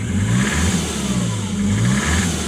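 A Jaguar X-Type 2.0 diesel with a common-rail engine and a turbo boost fault revs steadily and loudly up close, a continuous mid-pitched drone with rising and falling engine tones and no talking.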